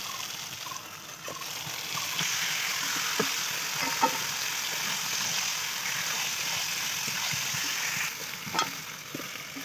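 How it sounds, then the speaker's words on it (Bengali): Spices with a little turmeric sauté in hot oil in a pot for chicken biryani, giving a soft, continuous sizzle with faint scattered pops and stirring clicks, heard fairly close and without talk. "অল্প হলুদ দিয়ে কষিয়ে নেব, তেলটা যেই ছেড়ে আসবে দিয়ে মাংসটা দিয়ে কষাবো।"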